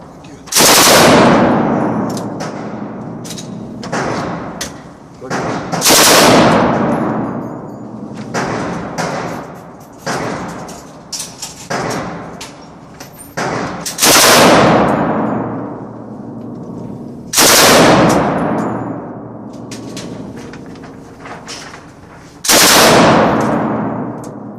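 SAW machine gun fired at an outdoor shooting range in several loud, sharp bursts spaced a few seconds apart, each cracking and echoing, with faint voices between bursts.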